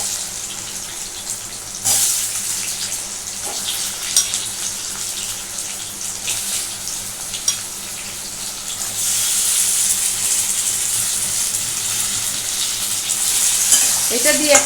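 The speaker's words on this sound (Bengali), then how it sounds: "পেঁয়াজটা আমি খানিকটা ভেজেছি। এবার আমি যেটা করব, এই পেঁয়াজের মধ্যে আমি যে সেদ্ধ করা কচুগুলো আছে সেগুলো আমি এখানে এখন দিয়ে দেবো।" Onion and boiled taro sizzle steadily in a hot pan, with stirring scrapes throughout and the frying growing louder and brighter partway through, no talking.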